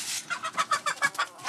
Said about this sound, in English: his real passion is raising short-legged chickens, as he calls them